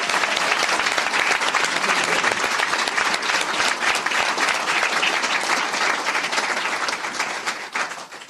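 Loud, dense applause from an audience at a Health and Human Services event with Robert F. Kennedy Jr., sustained evenly for several seconds before tapering slightly at the very end.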